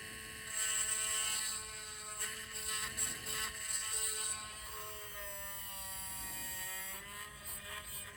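A small drill bores into the broken rear engine cover clip of a plastic GI Joe Tomahawk toy helicopter, giving a close, steady motor whine that runs almost the whole time with slight dips in pitch.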